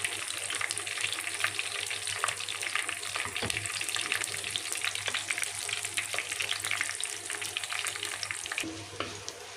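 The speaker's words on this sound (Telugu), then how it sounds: "తాలింపు బాగా వేగిందండి." Tempering spices sizzle in hot oil for a taro tamarind stew, a dense, continuous crackling fry close by with occasional stirring clicks and scrapes throughout.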